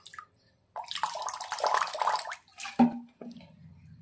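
Water is poured into strained carrot paste in a kitchen, giving short splashing, trickling bursts separated by pauses, fairly quiet and close.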